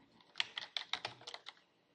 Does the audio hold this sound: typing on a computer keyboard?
yes